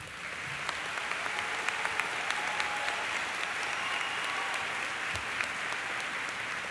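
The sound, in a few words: applause for veterans at commencement ceremony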